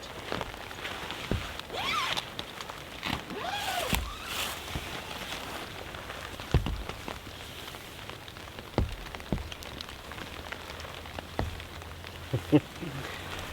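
Rain patters on a backpacking tent in a soft, continuous hiss, with scattered closer taps, rustles and a zipper-like scrape over the top.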